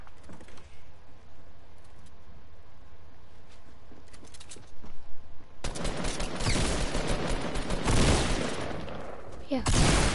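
Bursts of rapid gunfire erupt partway through a Fortnite match, loud and dense after a quieter stretch with faint background noise and brief shots.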